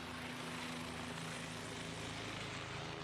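Helicopters fly over a volcanic eruption site, a steady, even engine and rotor drone that holds at one level throughout with no voices.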